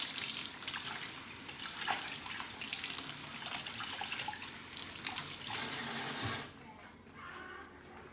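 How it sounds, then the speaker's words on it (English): Cold tap water runs steadily into a sink while hands are washed, a close, full splashing rush that cuts off abruptly near the end, leaving quieter dripping. "be sure you wash your hands in really cold water and then dry them."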